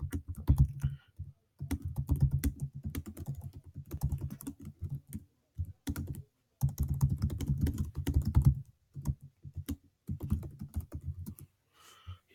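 Computer keyboard typing in steady bursts of keystrokes, with short pauses between runs, close and fairly quiet, as sentences are typed into a document.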